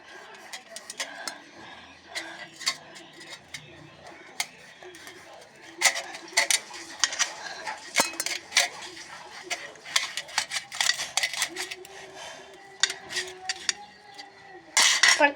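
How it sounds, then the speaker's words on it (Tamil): Two lemons are cut with a knife: scattered light clicks and taps on a board, growing busier toward the end, with soft background noise. "இப்போ அந்த 2 லெமனையும் கட் பண்ணிக்கலாம்."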